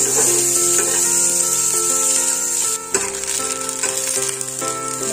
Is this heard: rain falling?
no